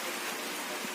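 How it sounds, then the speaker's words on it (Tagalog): Heavy rain falling during the season of rains and typhoons, heard as a brief, steady broadband hiss at low level with no voices. "napakalakas na ng ulan since this is the season of rains"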